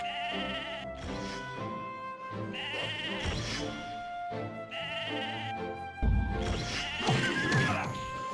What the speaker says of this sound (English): This sheep is traumatized.